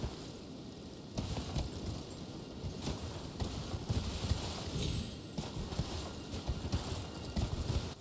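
Horse hooves clip-clop in the video game Elden Ring, a steady trotting patter running the whole time over a busy, noisy game soundscape with occasional heavier thumps.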